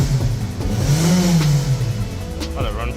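Mitsubishi Outlander 2.4-litre petrol AWD with an intermittent no-start fault, engine running close by with a droning hum that rises and falls as it revs, loud and continuous.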